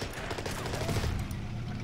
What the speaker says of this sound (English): Keep firing on that bunker.